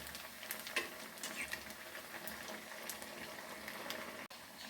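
Leftover uppumavu snack frying in a pan, a steady soft crackle and sizzle of oil running throughout at close range, with no talk over it.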